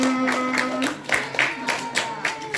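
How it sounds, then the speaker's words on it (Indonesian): Scattered hand claps from a small group at a Maulid Nabi celebration, uneven and moderately loud, with a child-like tonal voice or music lingering underneath. "Tepuk tangan untuk kita semua."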